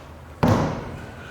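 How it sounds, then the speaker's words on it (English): An expedition truck's door swings shut against a magnetic catch, giving a single solid thud with a short ringing decay, close by in a quiet setting. "when we close the door, it contacts the magnet and that holds it closed"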